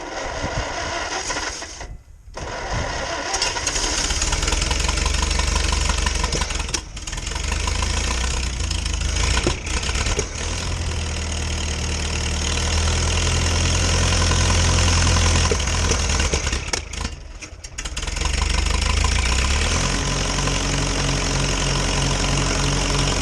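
An old Farmall H tractor that sat for years cranks and fires, then idles loudly with a rough, knocking rhythm, stumbling briefly a few times before settling into a steady low chug.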